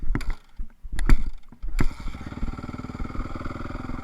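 2010 Suzuki RM-Z450 dirt bike with a bogging issue, a few sharp engine blips and kicks followed by a steady, throbbing running rhythm, heard close and alone.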